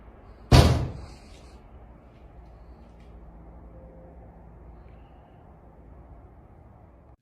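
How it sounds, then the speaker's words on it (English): Inside a cemetery garage, a single loud, sharp slam hits the wall, then the room falls to a low, faint hum with a brief soft knock near the end. "something can be heard slamming against the garage walls again and again"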